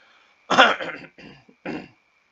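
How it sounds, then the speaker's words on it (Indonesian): A few harsh coughs close up, one strong burst followed by shorter bursts after brief pauses, with no talking. "mohon maaf ini sedikit batuk ya"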